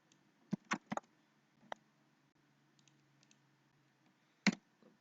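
A computer mouse clicks a few times while copying and pasting an image, crisp close clicks in a quick cluster followed by a lone click later, faint and otherwise quiet.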